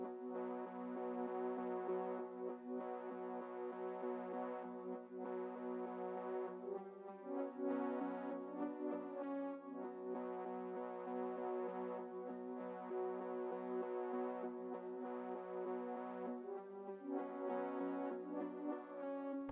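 A simple synth arpeggio pattern programmed in FL Studio for a trap-style beat plays alone, a bright, steady repeating sequence of sustained tones cycling at an even pace and holding a constant level.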